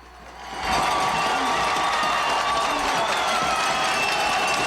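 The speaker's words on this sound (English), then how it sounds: "the Mount Carmel fans are on their feet and cheering for the Mount Carmel defense" A football crowd of Mount Carmel fans erupts into loud, sustained cheering for their defense at a 1973 high school game against Dunmore, swelling up after a quiet start and staying dense and steady.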